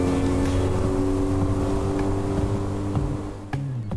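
A small Yamaha F25C outboard motor on a boat drones steadily at cruising speed, its buzzing hum close and loud, dipping slightly in pitch near the end.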